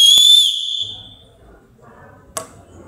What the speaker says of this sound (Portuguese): Ela contém também um apito, ok? E até que produz até um som relativamente alto.